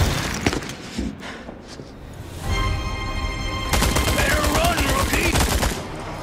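Gunfire in Resident Evil 4 Remake during a boss fight: dense, loud automatic bursts and sharp shots with a short ringing stretch between volleys.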